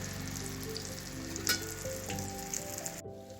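Sweets sizzle steadily in hot oil, a continuous crackling fry with a few brief sharper pops, ending abruptly near the close.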